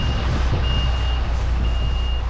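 A truck's reversing alarm beeps in long steady tones over loud engine rumble and road noise as the truck turns round, close by.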